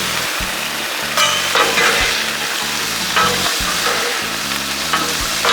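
Onions and vegetables fry on an oiled Blackstone griddle with a constant bright sizzle, punctuated by several rhythmic scraping and stirring strokes from a spatula.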